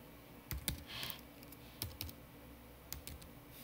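Typing on a Mac computer keyboard, quiet close key clicks arriving in short clustered bursts separated by pauses.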